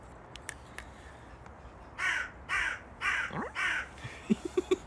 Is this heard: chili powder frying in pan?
no